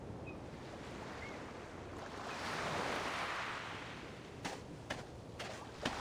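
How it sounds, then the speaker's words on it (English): Game-world waves roll onto a beach and foam at the shore as a steady wash that swells mid-clip, with a few sharp splashy bursts near the end. "Waves roll in, foaming at the shore."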